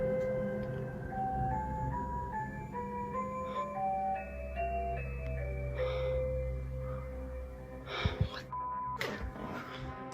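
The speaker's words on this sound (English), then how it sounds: "she finds a toy playing a tune on its own." A toy in a child's room plays a tinkling tune by itself, slow single notes stepping through a simple melody at moderate distance, with faint breathy noises and a couple of soft thumps near the end.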